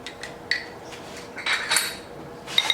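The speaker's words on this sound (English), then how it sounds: "you just stir this cheese mixture all up together" Goat cheese mixture stirred in a bowl for an asparagus tart, with soft scraping and a few sharp clinks of a utensil against the bowl, close and fairly quiet, no talk.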